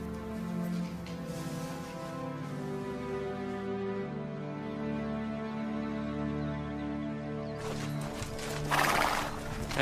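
Horses nearby, with hoof clip-clops and a whinny over a steady background drone.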